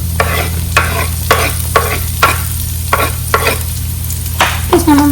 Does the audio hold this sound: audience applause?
no